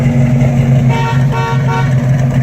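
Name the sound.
car horn of a 1970 Chevrolet El Camino SS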